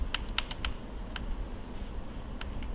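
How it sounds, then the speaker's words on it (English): Sharp plastic button clicks from a Nintendo Switch controller being pressed during an input test, a quick burst of several clicks followed by scattered single presses over a low steady hum, no talking. "the clicking sound you heard is actually coming from the switch."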